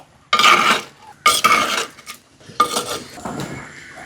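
A metal spoon scraping and clattering in a pot of fish curry being stirred outdoors in a Kerala village kitchen, three loud bursts of stirring separated by short pauses.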